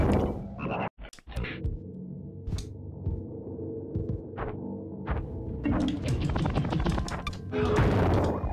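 Frogs croaking in the video game Mosa Lina, with repeated throbbing croaks and thumps over a steady game hum that build into a denser burst near the end. No one speaks.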